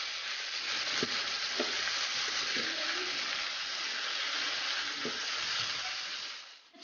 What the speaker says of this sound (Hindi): चिकन को अच्छी तरीके से हमने फ्राई करना है।